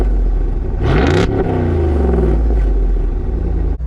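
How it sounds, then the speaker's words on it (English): A 2024 Jeep Wrangler Rubicon 392 V8 with its active exhaust open revs hard, climbing sharply in pitch and then easing off into a deep, steady, loud rumble from close by. "I do have the active exhaust turned on right now, and this thing sounds fantastic."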